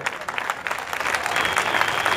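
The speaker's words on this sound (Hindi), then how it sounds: "जोरदार तालियों से स्वागत करिए।" An audience gives a lively welcome at a speech event in a Varanasi court complex: close, dense clapping that builds in the second half and stays loud.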